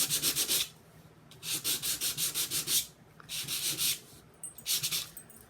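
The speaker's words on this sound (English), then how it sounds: "And I'm going to sand the edges." Paper tags get their edges sanded in quick rhythmic rubbing strokes, close and scratchy, in four separate bursts with short pauses between them.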